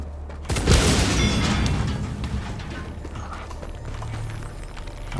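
A grenade explodes in a video game with a sudden loud boom, followed by a long rumbling decay and steady background noise.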